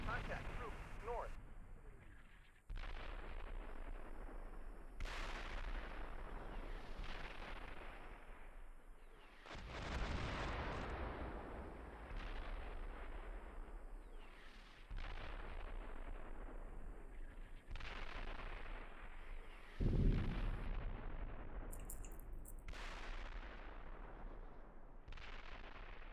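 Artillery and gunfire in the tank combat simulator Steel Beasts Pro PE boom repeatedly at intervals, each blast trailing off in a long rumble. Distant and moderately quiet, with radio chatter between the shots.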